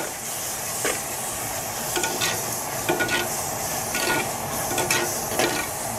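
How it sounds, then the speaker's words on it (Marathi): Masala gravy for a Kolhapur-style matka biryani roasting in oil, with a steady frying hiss and sizzle and scattered stirring scrapes throughout, close and fairly loud, with no speech. "हे चांगलं तेल सुटेपर्यंत आता भाजून घ्यायचं"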